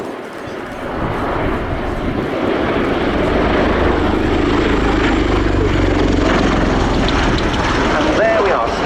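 A CV-22B Osprey tiltrotor flies overhead at the Fairford air show, its loud, steady rotor and engine drone holding throughout with a deep low rumble and broadband roar.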